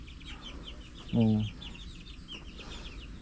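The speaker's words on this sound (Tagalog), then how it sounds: "Solid ang ating mga manok." Farm chickens, crossbred Filipino gamefowl, cluck softly in the background while chirping birds sound throughout and someone speaks briefly up close.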